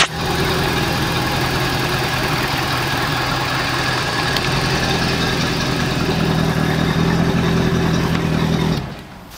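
Checkmate boat's brand new outboard motor idling right after a cold start, a loud steady close rumble with a rough, slightly knocking texture that cuts off near the end, with no talk.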